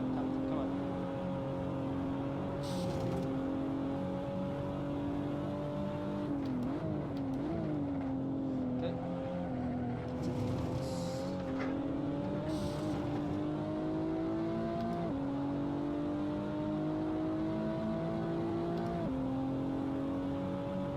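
A Toyota Supra TA90 race car laps Buttonwillow in the Assetto Corsa racing game, its engine holding a loud, continuous drone that rises and dips with shifts and corners, with brief dips and scrapes along the way.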